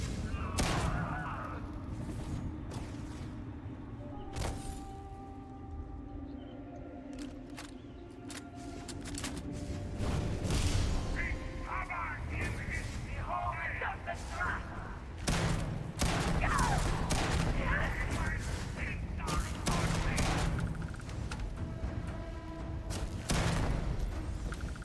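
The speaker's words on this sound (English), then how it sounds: "this shotgun is just amazing" Shotgun blasts go off in the video game Starfield, sharp booming shots at irregular intervals amid the clatter and rumble of in-game combat, fairly quiet overall.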